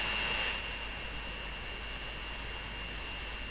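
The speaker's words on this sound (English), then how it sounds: "How many planes do take off from there?" Aircraft in the Transport Fever game roar steadily as they take off, a broad continuous jet rumble that is loudest at the start and then holds level, with no talk.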